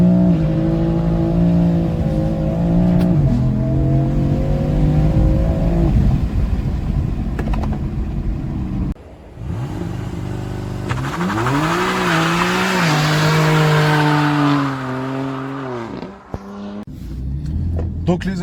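A stock BMW M4 rated at 431 horsepower accelerates hard on a road test, its engine climbing through rising revs with gear changes, loud and close, with a second strong pull later and a brief drop in between.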